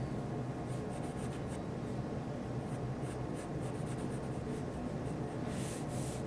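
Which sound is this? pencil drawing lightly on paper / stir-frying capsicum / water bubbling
pencil drawing lightly on paper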